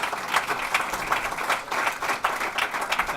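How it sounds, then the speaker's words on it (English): An audience applauds to welcome speaker Mike Wien, a fairly close burst of clapping with individual hand claps audible and an uneven, pulsing rhythm throughout. "Please give him a round of applause and welcome Mike Wien"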